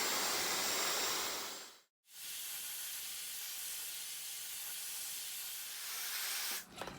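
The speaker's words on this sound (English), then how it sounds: "I'm just going to blast dry my hair now." A Dyson Supersonic hair dryer with the smoothing attachment blasts air through hair in a steady loud hiss, cutting out for a moment near the two-second mark before resuming and sputtering near the end.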